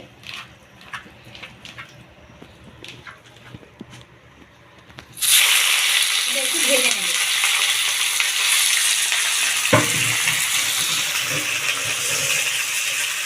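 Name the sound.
chicken frying in mustard oil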